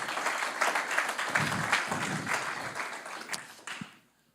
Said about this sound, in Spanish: ¿Por qué no damos un fuerte aplauso por esto?